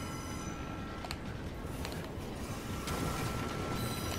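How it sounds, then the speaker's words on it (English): A train rolls past in the video game Assassin's Creed Unity, a steady close rumble of wheels and carriages running throughout, with faint squeal-like tones above it and no talk. "Here comes the train."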